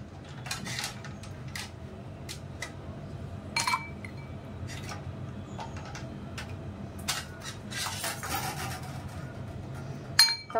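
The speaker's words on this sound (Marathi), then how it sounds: "आता बर्फाचे काही खडे घालूया" Ice cubes drop and clink one after another into a glass of rose sherbet with tender coconut, sharp close chinks and rattles scattered over a quiet background.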